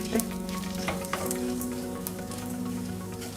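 Rice frying in oil for Mexican rice, stirred with a utensil, producing a steady crackling sizzle with scattered scrapes and clicks as the grains are turned, no speech.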